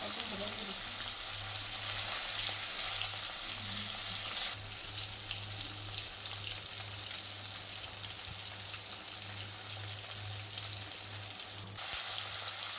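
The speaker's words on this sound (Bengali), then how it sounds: "এক সাইড ভাজা হয়ে গেছে, এরপর আমি উল্টে দিচ্ছি।" Katla fish fry in hot oil after being turned over, a continuous crackling sizzle close up, with light scraping and stirring sounds partway through and a low background hum.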